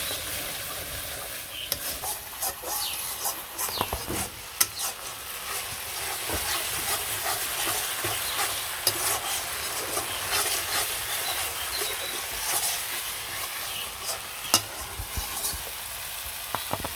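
Cumin and ground garam masala sizzle and fry in a pan with tomato, onion, ginger and garlic in a Bangladeshi village kitchen, a steady crackle marked by scattered scraping clicks of stirring.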